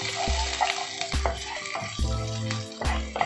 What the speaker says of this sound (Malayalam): നമുക്കിതിലേക്ക് എടുത്ത് വെച്ചിരിക്കുന്ന ഇഞ്ചിയും വെളുത്തുള്ളിയും ചേർത്ത് കൊടുക്കാം.